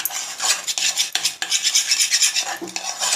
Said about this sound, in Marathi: हलवून चांगला एकदम मस्त गोळा झाला पाहिजे मसाला. असं भाजून घ्यायचा.